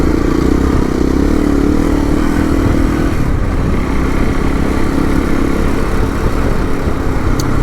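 An adventure motorcycle engine runs steadily at idle, a loud, continuous rumble close by with no voices over it.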